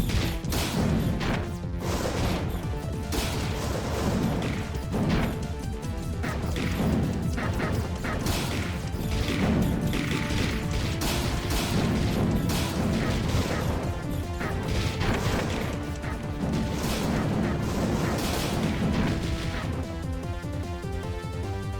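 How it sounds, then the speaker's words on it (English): Repeated explosion effects for a shoot'em up game burst one after another in an irregular rhythm, each a loud crashing blast with a low rumbling tail. "Maybe slightly lower rumbling explosion"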